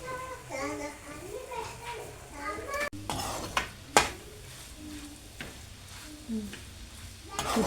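Spices and salt are stirred in a pan for egg rice, producing a low sizzle and spoon scrapes under a speaking voice, with a voice in the background.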